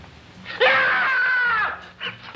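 A person lets out a single loud, sustained scream of about a second, close and shrill, followed by quieter rustling.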